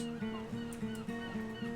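Repeated honking bird calls in Minecraft Prominence II come in a regular series of short, tonal cries over soft ocean ambience during a boat ride, fairly faint.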